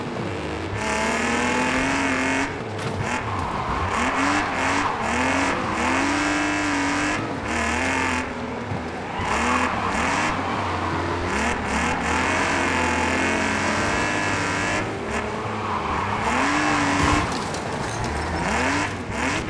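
Cars race and crash in the Wreckfest 2 video game, engines roaring and revving steadily throughout with pitch sweeps as vehicles accelerate, plus tire squeal and scraping impacts, loud and continuous with no talk.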